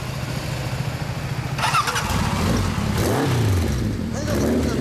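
A fully customised Kawasaki Zephyr 1100 with a four-pipe Doremi Collection exhaust runs close by, its engine idling with a low, uneven rumble and swelling with blips of revving. Voices talk over it at times.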